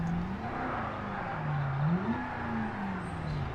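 The engine of a 1964 Gavril Bluebuck in a driving video game hums in third gear, its pitch rising, dipping and climbing again as the heavy car speeds up, with no talk over it.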